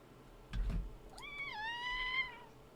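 A house cat gives a clear, drawn-out meow after a soft thump, the cry starting with a short chirp and then holding steady close to the microphone in a quiet room.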